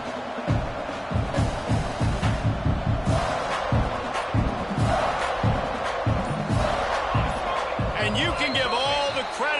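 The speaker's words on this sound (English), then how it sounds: "Credit to the crowd for that one." Loud football stadium crowd roaring and cheering continuously as the opposing offense lines up near its own 20-yard line, dense rhythmic surges of noise throughout with occasional louder swells.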